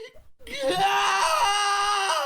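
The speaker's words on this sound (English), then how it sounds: "A scream echoes from a short distance away." A video game scream, a high sustained wail with a short echo, sounds from a short distance away. It rises after a brief pause and holds loud and steady.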